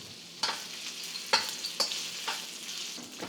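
Taiwanese sausages and scallion pancake stir-fried in oil over medium-high heat, a steady close sizzle broken by several spatula scrapes and clacks against the pan, with no talking.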